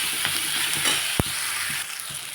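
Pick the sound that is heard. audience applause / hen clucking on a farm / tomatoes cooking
tomatoes cooking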